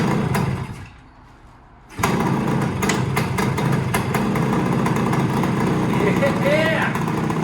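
A 1970 Yamaha 175 Enduro motorcycle with a stuck throttle, its engine catching and settling into a loud, steady close-up idle after a brief lull, with people talking over it.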